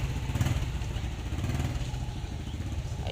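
A SYM Bonus 110 motorcycle engine, just converted from CDI to battery operation, idles steadily with a low, even chugging and a light mechanical clatter. Faint background noise sits underneath.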